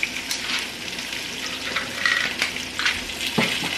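Garlic, rosemary and thyme frying in a pan give a steady, moderately quiet sizzle and crackle throughout, with occasional small pops and clinks.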